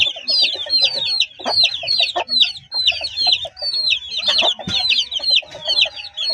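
A hen clucks repeatedly near her chicks, close and fairly loud, with busy overlapping cheeps and bird calls on a farm, no voices.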